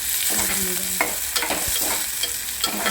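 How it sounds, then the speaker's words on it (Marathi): Garlic, cumin, curry leaves and asafoetida sizzle in hot oil, a steady close hiss broken by sharp spoon knocks and scrapes against the pan as it is stirred, with no voices. "आता आपण लसूण जिरं आणि कढीपत्ता आणि हिंग पावडर ते ॲड करतो"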